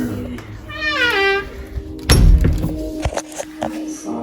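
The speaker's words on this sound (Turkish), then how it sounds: "Eve kedi girdi." A single drawn-out cat meow, close by, followed by a heavy thump like a door and some light knocking noises.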